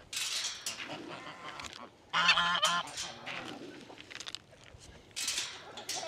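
Geese honk repeatedly at close range during feeding, several loud calls standing out over a busy background, with a person speaking intermittently around them.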